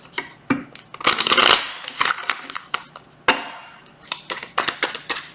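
Crisp riffling and snapping of tarot cards being shuffled, a rapid burst of flutters followed by scattered soft taps and slaps, close and fairly loud.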